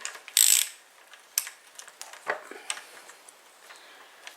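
A ratchet clicks in short bursts as wheel nuts come off a log splitter during servicing, with a loud opening burst followed by scattered quicker clicks, close and without talk.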